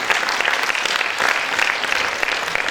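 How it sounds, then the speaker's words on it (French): Audience at a charity variety show in a casino theatre in Dieppe applauding the partners, a dense burst of clapping from a packed hall that stays loud and even throughout. "on peut aussi les applaudir, l'ensemble des partenaires"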